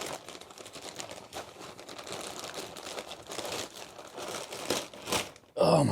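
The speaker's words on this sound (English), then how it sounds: "Using the world's worst pair of scissors." Plastic packaging around a 300Tdi chassis wiring loom crinkles and crunches steadily as a poor pair of scissors cuts it open, close and continuous, ending in a sharp louder burst.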